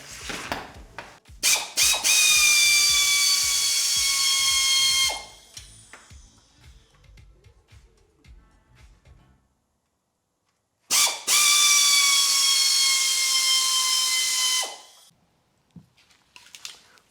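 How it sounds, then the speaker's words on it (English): A power tool removing the transmission bracket bolts on a KA24DE engine buzzes and rattles loudly in two long bursts of several seconds each, separated by quieter clicks and a short silence. "probably remove 2 of the transmission brackets so we can have access. Because there's like 4 bolts behind them."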